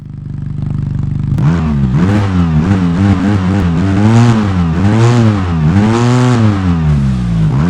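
An off-road vehicle's engine in the Overpass driving game, starting from a steady idle and then revving hard in repeated rising and falling sweeps, loud and close, with no other sounds.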